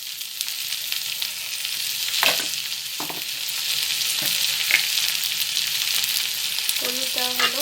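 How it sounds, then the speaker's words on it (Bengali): Potatoes frying with browned onions, salt and turmeric in a pan, a steady close sizzle broken by a few scrapes and stirs of a utensil, with no talking. "আলুটাকে আমরা পেঁয়াজের সাথে ভালোভাবে ভেজে নেব।"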